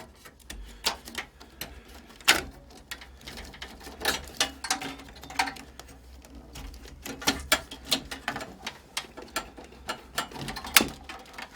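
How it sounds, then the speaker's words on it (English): Data and power connectors being unplugged inside a 1992 Apple Macintosh IIvx, with a series of sharp plastic clicks, snaps and rattles close up, irregularly spaced and with no speech. "So we'll first unplug the data and power connectors."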